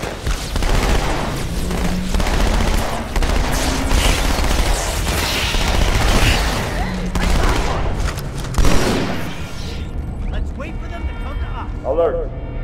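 Dense gunfire and explosions in the video game Halo 2 Anniversary, set on Cairo Station, rattle on loud and nearly continuous beneath in-game radio voices, thinning out toward the end.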